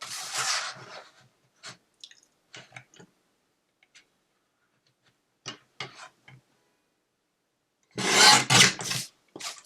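Scissors or a trimmer cut card stock for a handmade card: a short scrape, then sparse faint ticks and snips, and a louder, longer rasping cut near the end.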